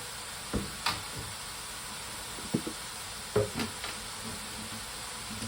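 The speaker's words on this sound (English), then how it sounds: "We've got our meat frying away here." Meat sizzles steadily in a pan, a constant crackling hiss with a few soft clinks of a utensil stirring now and then.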